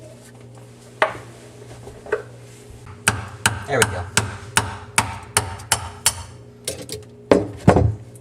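A hammer strikes a screwdriver against a garbage disposer to unlock it, a series of sharp metallic taps in an uneven rhythm, close by, with a brief spoken remark.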